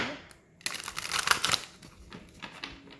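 A deck of tarot cards is shuffled close up, giving soft crisp riffling and crinkling bursts that rise and fall over a few seconds, with no voice.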